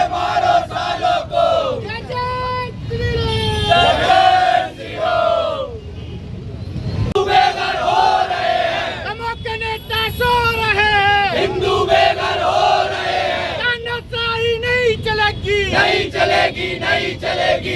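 Crowd of protesters at a street demonstration outside a party office in Damoh, chanting slogans in loud, rhythmic unison with repeated rising shouts, a brief lull midway, then the chanting resumes just as strongly.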